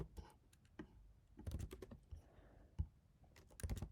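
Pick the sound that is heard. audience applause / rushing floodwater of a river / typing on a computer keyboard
typing on a computer keyboard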